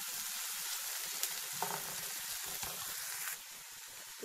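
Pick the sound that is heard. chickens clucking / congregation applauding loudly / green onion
green onion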